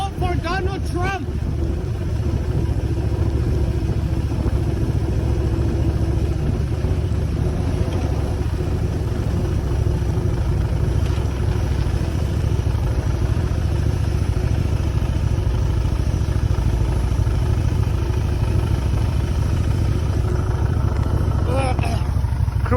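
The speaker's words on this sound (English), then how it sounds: "Cruising, you guys. My bike sounds perfect." A motorcycle engine drones loud and steady while cruising, with heavy wind rush over the microphone and a few brief mechanical rattles.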